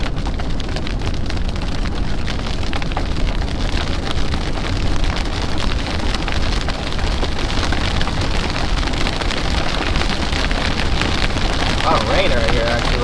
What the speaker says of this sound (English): A lot of rain right here actually.